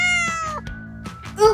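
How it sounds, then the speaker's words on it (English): A cat meows in a few short, high, wavering calls close up, with a slight rise at the end, over a faint steady hum and no talking. "Meow!"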